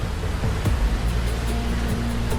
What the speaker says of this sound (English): Goriuda Waterfall is more than just a scenic location.